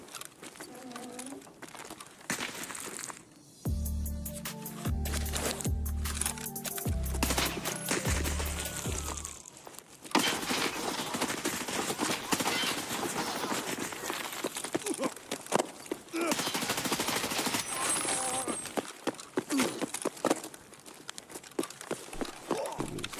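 Gunfire in Escape From Tarkov on the Streets map crackles in rapid bursts and scattered shots, with rhythmic thumping early on, then dense, continuous volleys close by throughout.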